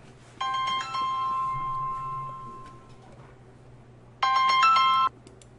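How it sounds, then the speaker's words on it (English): A telephone rings indoors with two electronic trilling bursts, the first long and sustained, the second short after a pause, fairly loud with no talk. "the phone rang"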